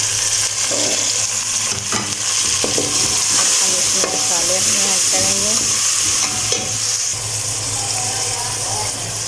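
Chopped tomatoes and green chillies hit browned onions in a hot pan for an Alu Arvi salan, giving a loud, steady sizzle with stirring scrapes throughout, plus a low constant hum underneath.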